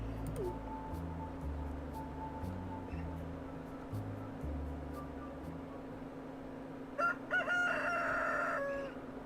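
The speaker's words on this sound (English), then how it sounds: "it's funny that it makes a rooster noise" Rooster crowing in the farming video game Stardew Valley, a single clear cock-a-doodle-doo near the end, heard over soft background game music.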